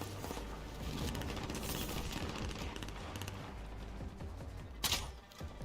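Video game gunfire and an explosion, dense continuous shooting throughout with a sharp loud blast near the end, no talk over it.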